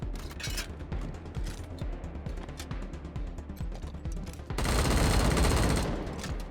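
Rapid gunfire from a newly switched weapon in a video game: a dense, loud burst of shots near the end, following quieter mechanical clatter and scattered shots.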